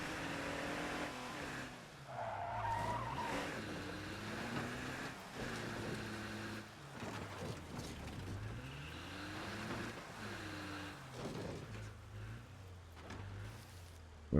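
A car reverses into zombies in State of Decay 2, its engine droning steadily with repeated rising and falling revs throughout.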